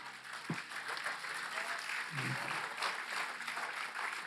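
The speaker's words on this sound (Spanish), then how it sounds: "Denle un aplauso al Señor, aleluya." A church congregation at an Easter Holy Week service applauds, a steady wash of clapping from many hands lasting throughout, fairly quiet and even, with a couple of low bumps from handling noise.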